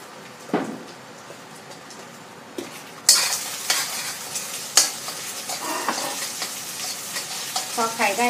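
Egg frying in a pan while being broken up and stirred for rice noodles with cha-om, a close sizzle with repeated scraping and clinking spatula strokes that grow busier and louder partway through.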